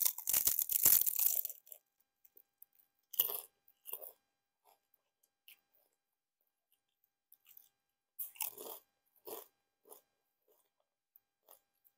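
Close, crisp crunching bites into Korean fried chicken come in several short bursts separated by quiet pauses, with the loudest crunching at the start and no talking.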